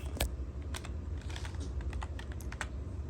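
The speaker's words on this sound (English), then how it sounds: "let's go to Microsoft Word and try typing" Typing on a Langtu L1 LT600 keyboard produces fairly quiet, irregular key clicks in quick succession, with a few sharper taps, close and alone.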